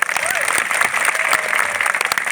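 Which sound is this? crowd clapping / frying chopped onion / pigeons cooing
crowd clapping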